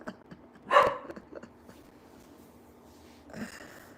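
A dog gives one loud, sharp bark close by, then a quieter bark or yip follows about three seconds later against a low room background.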